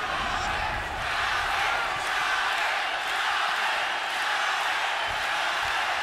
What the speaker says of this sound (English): Pro-Chavez crowd trying to urge him on for more.